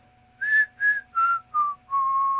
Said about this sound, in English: excuse my whistling.